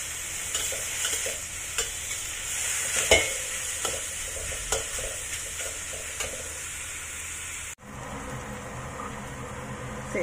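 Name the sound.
onions and garlic frying in a pan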